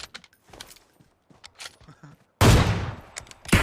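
Gunfire in an online shooter video game erupts as a loud, dense burst of shots lasting about a second, with a final shot just after. It follows a stretch of quieter talking and movement sounds.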